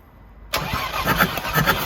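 A Ford Transit MK7 engine cranks over on the starter during a compression test, kicking in abruptly after a quiet start with a steady, rhythmic chugging pulse at close range.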